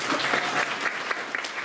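A crowd at a children's song festival claps for the jury in a steady, fairly close burst of applause that continues evenly throughout, with no voice over it.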